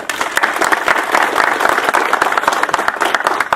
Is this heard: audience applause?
yes